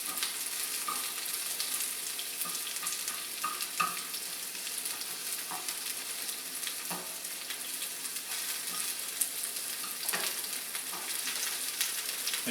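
Egg foo yung fries in a pan with a steady, dense sizzle, close and continuous, with occasional small pops and stirring scrapes.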